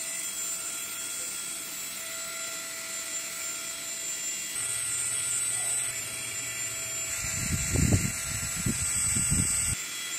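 A Both Tech mini turbo handheld fan runs steadily, giving a high, continuous whine close to the microphone that changes pitch partway through, with a brief rumble near the end.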